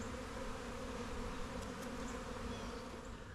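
Honeybees streaming out of a freshly set-up hive give a steady, dense buzzing drone that fills the whole stretch, close and continuous with no talk.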